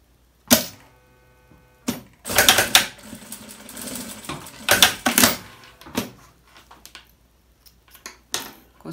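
A sewing machine stitches a half-centimetre seam joining two strips of fabric bias binding, running in several short, close bursts separated by quiet pauses and handling noises.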